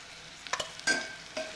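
A spoon stirs ridge gourd bhaji, seasoned with red chilli, turmeric and salt, in a pan. Three or four short, soft scraping strokes come over a faint sizzle.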